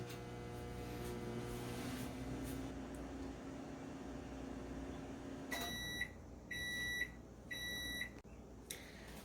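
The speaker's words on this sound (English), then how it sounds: "put it in the microwave for, I would say, probably just about 1 minute to start" A microwave oven cooks an egg omelette, humming steadily for several seconds, then goes quiet and gives a short series of sharp, high beeps.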